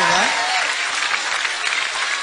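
Studio audience on a TV show bursts into loud, sustained applause mixed with shouting and cheering, dense and continuous throughout, with a brief voice at the start.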